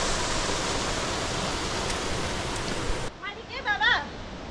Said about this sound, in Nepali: पानीको धारा ठुलो ठुलो